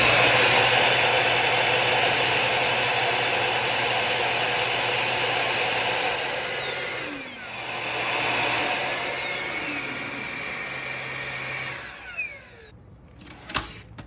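SwitchBot K10+ Pro cordless vacuum cleaner running with a loud, steady high-pitched whirring drone that dips briefly midway, then winds down and stops, followed by a few soft clicks and knocks.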